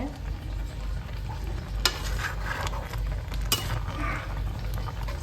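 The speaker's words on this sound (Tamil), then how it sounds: "தக்காளி நல்லா கலக்க வச்சு நல்லா தக்காளி வேகிறது" Tomatoes for tomato pickle being stirred in a pan as they cook, with a spoon scraping and clinking in occasional strokes over a soft, steady sizzle, close up and without talk.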